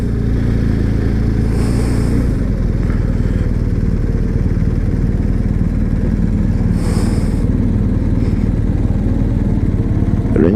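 A BMW adventure motorcycle engine idles close and loud with a steady, rough, throbbing rumble, punctuated by two brief gusts of wind or rustling noise.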